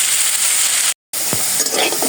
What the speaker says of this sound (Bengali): কিন্তু এখন যেমন একটু ভালো করে দেখতে ভাজতে হবে।